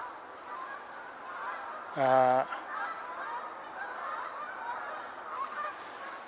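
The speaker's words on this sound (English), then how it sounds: "I see a couple Canada geese." A Canada goose gives a single clear honk at moderate distance, brief against a quiet outdoor background.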